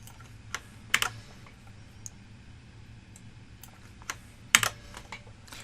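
A computer keyboard is typed on in short sparse bursts, with crisp close clicks and a few sharper key strikes separated by quiet gaps.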